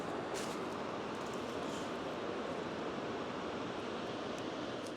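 A steady, broad roar of rushing water from Jarring Falls fills the whole stretch, constant and fairly distant, with no voices.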